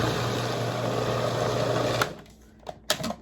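A food processor whirs steadily at close range as it blends salted caramel dessert hummus made with cashew milk, then cuts off after two seconds, followed by a few light clunks and taps.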